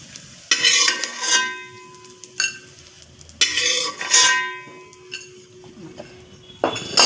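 Edible gum (dink) roasts in a pan, stirred with repeated bursts of gritty scraping and rattling against the metal, loud and close, in several separate sweeps with short pauses between, no voices.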